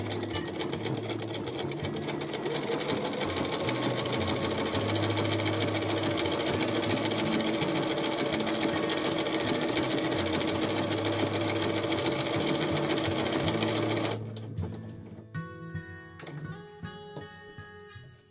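Sewing machine stitching an ajour stitch, a fast steady mechanical chatter running loud and close for about fourteen seconds before stopping, followed by a few softer handling clicks.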